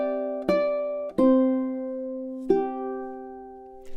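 Ukulele plucking measure 10 of the French folk song "Au clair de la lune", three clear notes ringing out one after another in steady time, close and alone, the last note an open G left to sustain.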